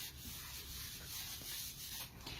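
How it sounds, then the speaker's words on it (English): Wax being rubbed by hand onto a chalk-painted board, a soft, continuous close-up scrubbing with rhythmic back-and-forth strokes, faint and alone. "You just rub it in and basically rub it off."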